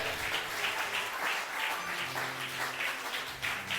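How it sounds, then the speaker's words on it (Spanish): A church congregation claps their hands together in worship, a steady, dense wash of applause from many people filling the space without pause. "dale fuerte palmas al Señor"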